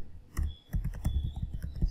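Fingers type a search term on a computer keyboard, giving a quick run of close, crisp key clicks with a steady irregular rhythm and a faint tone humming underneath.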